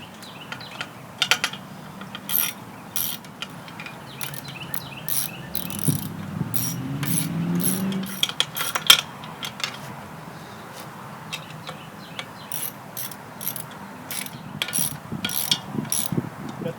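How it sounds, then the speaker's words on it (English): Bolts are run in with a ratcheting tool on the lower unit of a 1975 Evinrude 40 HP outboard during restoration, giving close, repeated clicking bursts of ratchet pawls with short pauses and faint mechanical handling between. "Get all these bolts started."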